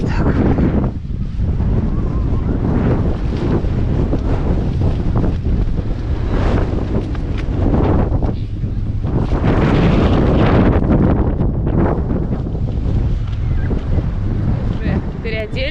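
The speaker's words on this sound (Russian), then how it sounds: "Вот такой ветер." Strong wind roars on a beach at Dzhemete in Anapa, a steady, loud buffeting of the microphone with surf underneath and brief gusts, while people talk faintly in the background.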